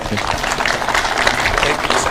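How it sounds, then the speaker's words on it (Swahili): An audience at an outdoor peace caravan event in Kajiado, Kenya, applauds steadily throughout, a dense wash of clapping with voices mixed in. "Tumpigie makofi."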